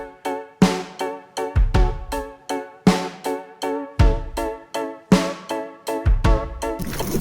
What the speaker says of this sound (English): And you can hear there's like tape noise and wobble effect.